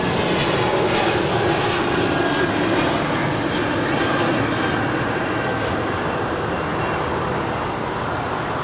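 An American airliner on runway 25 right at Los Angeles airport roars loudly and steadily through its takeoff run, a broad sustained engine rumble with no breaks throughout.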